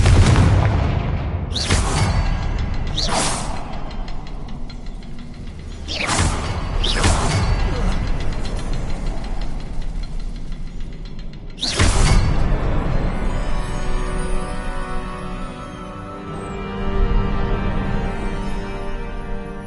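Confringo spells explode in a Harry Potter video game: about six sharp, loud blasts land at irregular intervals, each a bright crack that fades into a rumbling tail, with a low mechanical drone and softer magical whooshes between them.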